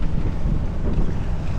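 Steady, gusting wind buffets the microphone aboard a sailboat sailed solo, with low rushing water beneath it and no talk throughout.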